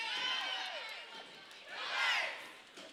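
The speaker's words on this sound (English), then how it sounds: "People in the stands for the Bruins are stomping and clapping." Volleyball fans in the stands cheer for the Bruins at a high school match. The crowd noise is loud and continuous, swelling again partway through, with no distinct stomping or clapping standing out clearly.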